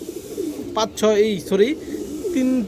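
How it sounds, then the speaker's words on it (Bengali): Nazra Kaldom pigeons coo in a few short rolling phrases, close by, with someone speaking over and between the calls. "এই দেখেন নাজরা কালদম একটা পেয়ার আছে"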